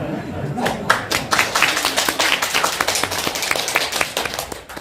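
An audience claps during a televised presidential candidates' policy debate, a dense burst of applause rising and lingering for several seconds while a voice talks over it.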